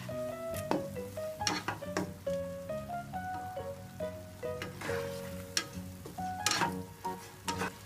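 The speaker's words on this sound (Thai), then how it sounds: "ก็เราผัดไปจนกว่า ไข่ที่เราใส่ลงไปเนี่ย มันสุกแล้วนะครับ" Curry-powder shrimp with egg is stir-fried in a pan, giving a steady sizzle with repeated scraping strokes and sharp spatula clacks against the pan, while soft background music plays underneath.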